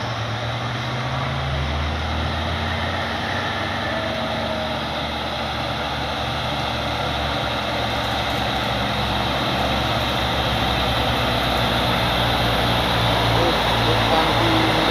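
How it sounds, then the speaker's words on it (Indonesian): A Hino truck pulling an empty trailer climbs a hill at Bukit Kodok, its engine a steady, heavy drone throughout, with faint voices present. "ada lagi truk Hino dan trailer kosong"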